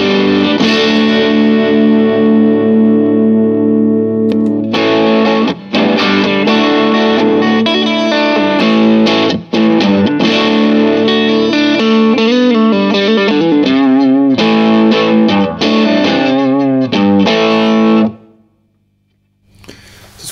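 Electric guitar played through a distortion pedal on a MIDI-switched pedalboard: loud, thick, saturated chords sustain steadily. A brief gap near the five-second mark splits the playing, and it cuts off sharply into near-silence at the end.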